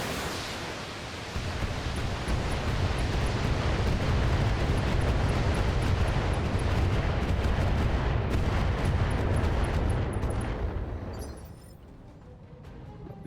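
Heavy weapons fire against an Atlas mech in a video game, a dense, loud rumbling barrage that roars continuously for about ten seconds and then tails off into quieter noise.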